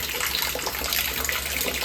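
Rainwater runs off into a repurposed olive barrel, a continuous close splashing and trickling gush with no pauses.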